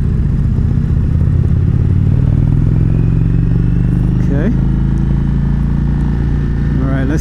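A 2019 Indian Chieftain Dark Horse motorcycle riding on a demo ride, its engine a loud steady low rumble close to the microphone, rising slightly in pitch as it accelerates, with a voice speaking over it.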